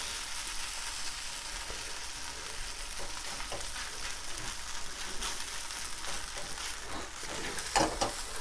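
Spaetzle noodles frying in a pan until crispy make a continuous crackling sizzle, close and even, with occasional stirring scrapes and a brief clatter near the end.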